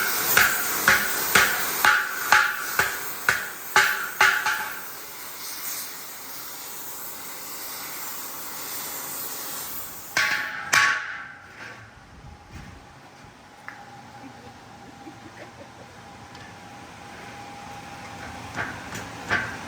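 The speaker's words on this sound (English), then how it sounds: "So he's heating up that piece of metal, hammering it out with a hammer to bend it around the ball, and then Emily's tack welding it as they go" Metal heated for bending around a ball for a 10-foot snowman is hammered in a quick, regular run of ringing blows, then a pause filled with steady hiss before another brief burst of strikes.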